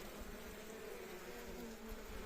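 Honey bees buzz steadily at a hive entrance during the pollen season, a dense, continuous hum of many wings close by with no voices.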